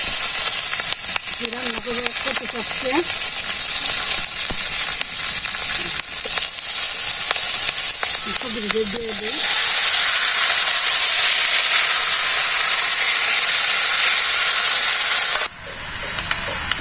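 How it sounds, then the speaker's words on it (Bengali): Home-grown ripe chilies fry in hot oil with cumin, producing a loud, continuous crackling sizzle and hiss. Faint voices can be heard briefly underneath. "তেলের মাঝখানে দিয়ে দিলাম বাড়ির মরিচি পাকছে এই পাকা মরিচ"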